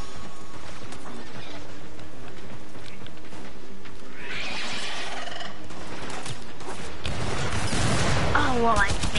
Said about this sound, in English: Oh, well, I just made a giant explosion.